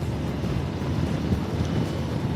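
An Aprilia Tuareg 660 trail motorcycle with a 47.5-horsepower engine is ridden on the road, heard as a steady low engine rumble buried under constant, heavy wind buffeting.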